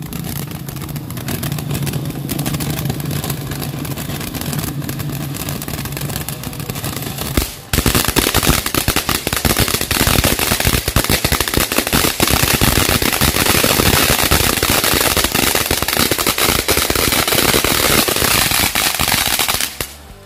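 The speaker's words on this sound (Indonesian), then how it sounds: "Mercon air mancur jumbo." Quiet rumble at first, then a sudden loud burst into continuous crackling, fizzing and popping as a large jumbo fountain firework sprays for about twelve seconds before cutting off.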